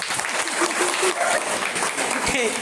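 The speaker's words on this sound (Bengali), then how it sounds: "ওয়াও জোরে জোরে হাততালি" Schoolgirls at a government girls' school clap together in a lively, dense burst of applause that holds steady and close, with voices calling out over it.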